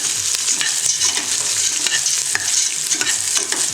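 Onion frying in a pan and stirred steadily until translucent, giving a bright continuous sizzle with soft scraping strokes, close and even throughout.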